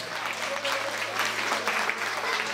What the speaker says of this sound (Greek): Θέλω ένα μεγάλο χειροκρότημα για την ορχηστράρα μας του Six Angel.